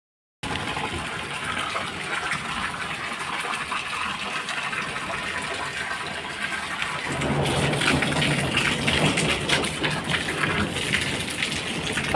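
Steady rain pours down in a mountain setting, a dense continuous hiss that grows heavier and fuller partway through, with no talking.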